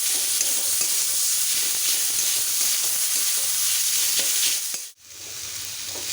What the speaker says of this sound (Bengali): ওলটা দিয়ে ভালো করে একটু নেড়ে চেড়ে